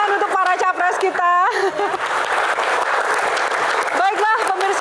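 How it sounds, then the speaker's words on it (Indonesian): Studio audience applause at an Indonesian comedy Q&A show for presidential candidates, a sustained broadband clapping wash running most of the clip, with speech-like voices cutting in at the start and again near the end. "silakan tepuk tangan untuk para capres kita"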